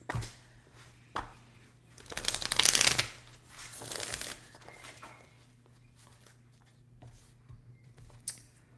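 Oracle cards being shuffled by hand, giving short papery riffles and taps with one longer burst of shuffling in the middle, close and fairly quiet, with no talking.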